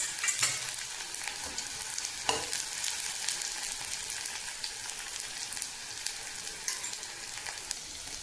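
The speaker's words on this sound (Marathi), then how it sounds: "आणि कांदा छान परतून घेऊ।" Onion frying in hot oil for a black pea curry, a bright continuous hiss and crackle with occasional sharp spatula stirs, close and fairly even throughout, no voices.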